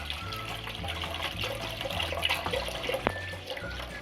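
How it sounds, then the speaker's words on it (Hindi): Milk poured into a pan of vermicelli for a sweet Eid dessert, a steady liquid stream and splash running close by for about four seconds, with a brief sharper clink near the end and no talking. "अब मैं इसमें दूध डालूँगी।"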